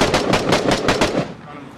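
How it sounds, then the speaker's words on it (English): A video game firefight, with a loud, close burst of about seven rapid shots in a steady rhythm that cuts off and leaves a fading tail. "The shots come from right."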